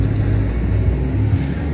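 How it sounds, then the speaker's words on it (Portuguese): Cars passing on a road, a loud, close engine rumble that swells and fades as vehicles go by, with steady low drone throughout. "Vou esperar os carros passarem."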